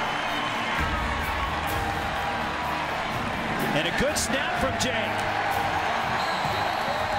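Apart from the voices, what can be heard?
football stadium crowd cheering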